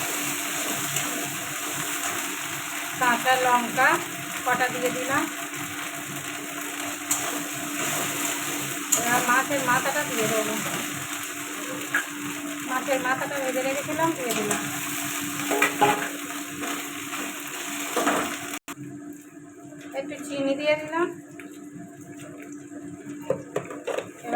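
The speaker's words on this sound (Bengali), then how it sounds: "এবার এটা আরেকটু কষিয়ে নেবো" Fish head and ginger sauté in a pan for a fish-head dal, a continuous close sizzle with repeated stirring scrapes and a steady background hum, while a voice talks intermittently over it.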